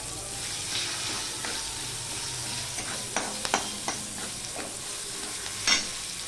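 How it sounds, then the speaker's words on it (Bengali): Onion and green chili fry in leftover rohu fish oil with a steady, hissing sizzle throughout, close and even, broken now and then by light clinks of stirring. "এবার এখানে একটুখানি পেঁয়াজ দিয়ে দেবো আর একটু দিয়ে দেবো কাঁচা লঙ্কা"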